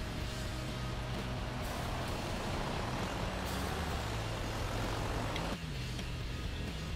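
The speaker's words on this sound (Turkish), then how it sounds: "Bakın geri frendeyim şu anda." A heavy truck in Euro Truck Simulator 2 slows on its retarder along a rainy road in Muğla, Fethiye, a loud, steady broadband engine drone with an air-brake hiss that eases off near the end.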